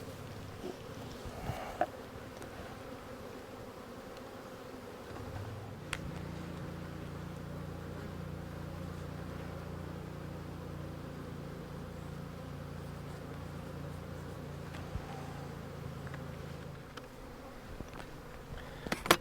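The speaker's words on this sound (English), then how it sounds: "So this hive, I'm not worried about swarming, and hopefully they'll actually peak after the nectar flow starts." Honey bees buzz around a strong beehive, a faint steady drone that holds under a low hum for most of the stretch, with a few brief clicks and knocks.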